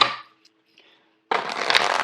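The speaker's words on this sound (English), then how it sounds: "Let me get the deck shuffled out first before I do the love reading for you." A deck of tarot cards is shuffled close up: a quick riffle at the start, a near-silent pause, then a loud, dense fluttering riffle running to the end.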